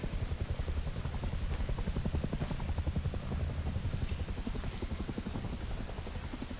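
A helicopter flies in the survival game Rust, its rotor beating in a fast, steady rhythmic thump that stays fairly close and constant throughout, with no one talking.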